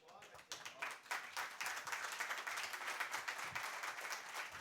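An audience claps at a grand mushaira, Jashn-e-Qaafiya 2026 at Novotel Juhu. Dense, steady applause builds quickly and keeps going, with a voice speaking over the clapping.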